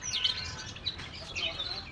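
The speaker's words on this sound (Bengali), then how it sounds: "পাখিগুলো উড়ে যাচ্ছে, কি সুন্দর লাগে দেখতে বেশ" Small birds chirp and tweet overhead above an open rooftop, bright repeated calls scattered across the moment over a steady outdoor background hiss.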